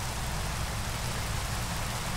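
Steady rain falls in the Minecraft video game as a constant, dense hiss of drops with no pauses, filling the background evenly and without talk.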